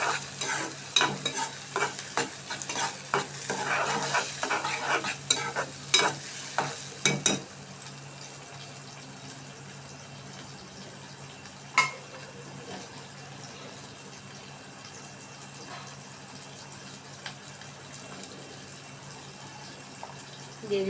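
Eggplant and shrimp frying in a pan while being stirred, a close sizzle with busy scraping strokes for the first seven seconds, then quieter frying with only occasional knocks.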